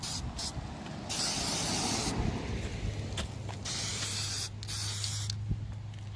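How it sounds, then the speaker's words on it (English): DEI high-temp spray paint is applied to brake calipers in several bursts, each a loud, close, airy hiss separated by short pauses, with a faint low hum underneath. "that's the second coat of DEI high temp spray"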